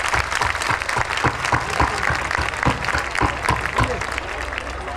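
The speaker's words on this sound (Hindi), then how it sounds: "तो अभी आप कोशिश करिए ताली बजा" An audience clapping for children at a public gathering, dense sustained applause from many hands, close and loud, steady throughout with a slight easing near the end.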